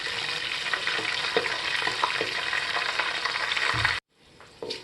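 Whole garam masala spices sizzling steadily in hot oil for a vegetable pulao, a dense crackling hiss with light stirring taps, cutting off abruptly near the end before a quieter sizzle resumes.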